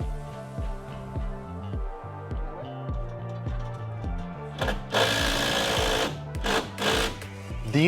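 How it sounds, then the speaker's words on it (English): A power driver toenails screws into roof framing lumber of 2x4s and 2x8s, giving a rapid series of short, close, rhythmic whirring bursts, followed by a louder stretch of driving and clatter near the end. "We're just toenailing a couple of screws in to hold things."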